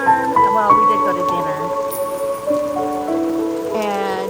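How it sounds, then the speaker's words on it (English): Rain falls steadily in a continuous patter, with sustained tonal music or voices running over it throughout. "You enjoying the rain?"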